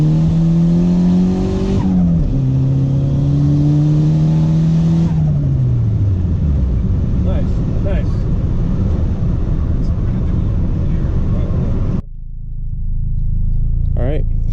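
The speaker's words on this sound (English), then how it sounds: "we're going to do a little pull here on about 7 PSI in second gear" A boosted Honda Accord pulls hard in second gear at about 7 PSI, its engine note climbing steadily through the revs, easing between shifts, then a brief lift before the drone resumes.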